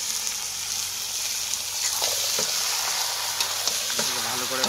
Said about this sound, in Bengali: ভালো করে এবার কষতে নেবো